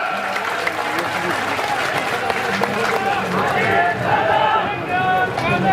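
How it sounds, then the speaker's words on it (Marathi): A crowd clapping loudly and continuously, with voices and cheers mixed into the applause. "जोरदार टाळ्या"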